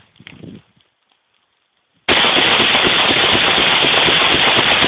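Sustained, dense burst of rapid automatic fire from an AK-47 rifle loaded with aluminum-cased ammunition, loud and continuous after a brief quiet stretch with a faint rustle before it.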